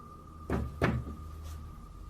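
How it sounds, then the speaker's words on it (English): Two dull knocks land in quick succession, the second slightly stronger, against a faint steady hum in an otherwise quiet room. "And the knocking gets louder."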